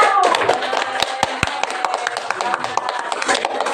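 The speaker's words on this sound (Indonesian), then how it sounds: "Beri tepuk tangan untuk kelompok" A classroom applauds a student group, with scattered, irregular hand claps from several people ringing out sharply over a few seconds while voices chatter alongside.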